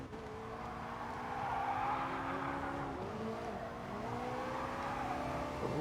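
A race car engine drones in Gran Turismo Sport, its steady, moderately loud note rising and dipping as the car shifts and revs through corners, with no speech.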